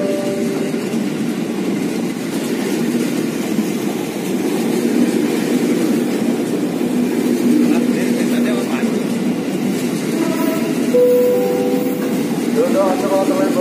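Low rumbling of a 12-car train moving through Juanda station, steady and continuous, with a few faint tonal squeals or horn-like notes near the end.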